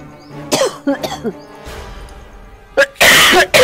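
A person coughs in several harsh bursts, with a loud, rough coughing fit closing out the clip.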